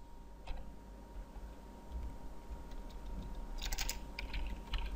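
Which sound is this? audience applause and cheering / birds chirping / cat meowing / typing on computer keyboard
typing on computer keyboard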